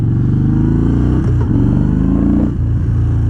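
A 2017 Yamaha Bolt R-Spec motorcycle engine idles loud and close with a deep, steady, throbbing rumble, a slight dip near the end, and no talk over it.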